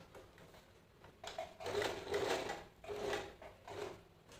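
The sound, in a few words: sewing machine stitching around the edge of a frock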